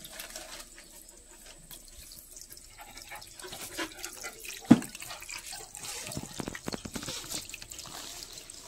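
Tap water runs steadily into a basin while a person's hair is washed at home, with a soft continuous trickle and a few louder splashes and drips partway through; no talking.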